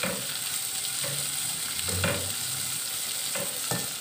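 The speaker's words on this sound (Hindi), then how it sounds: "बस इसको मैं फ्राई करके अलग निकाल लूँगी" Dry fruits and nuts fry in hot oil in a pan for winter panjiri, giving a steady close sizzle with scraping spoon strokes stirring at intervals, and no talking.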